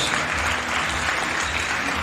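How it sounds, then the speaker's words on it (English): Dense, steady applause fills the room for Advocate Shamima Saleh at a political party gathering in Wynberg, close and sustained without a break for the whole stretch. "Give her a round of applause"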